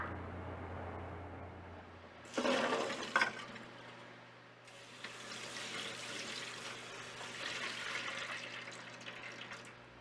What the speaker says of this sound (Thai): ปิดแก๊สได้เลยแล้วก็ยกหม้อลงไปเทน้ำทิ้งค่ะ